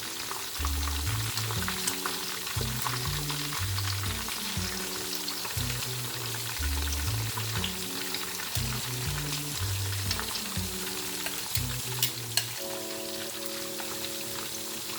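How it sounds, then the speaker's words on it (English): Tilapia fish frying in hot oil, a steady close sizzle and crackle that runs unbroken over tonal background music, with no talking. "So I will still be putting the tilapia fish in the oil as well"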